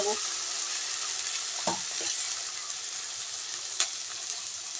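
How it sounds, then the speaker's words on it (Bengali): Ground cumin, coriander and dried chili powder sizzle and fry steadily in oil in a pan, a dense continuous crackle close by, with a few brief scraping stirs and one sharp clink; no one speaks. "জিরে ধনে শুকনো লঙ্কার গুঁড়ো দিয়ে দেবো সব কিছুতে মশলাটা একটু কষিয়ে"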